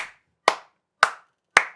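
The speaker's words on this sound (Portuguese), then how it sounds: "Aplaudo essa parte" Four sharp, isolated hand claps, evenly spaced about half a second apart, each ringing briefly in a quiet room.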